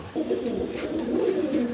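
A Madrasi pigeon coos in one low, throaty, rolling call lasting well over a second, close and steady, with no talking.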